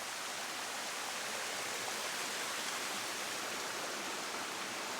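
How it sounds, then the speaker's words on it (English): Water flows in an outdoor stream amid green nature, a steady, even broadband rush heard faintly with no voices. "Who would want to be where water flowing?"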